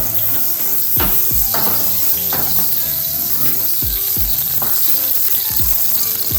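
Whole onion frying in hot oil for Nashville hot birria, a steady loud sizzle throughout with several sharp clanks of a utensil against the pot, no talking.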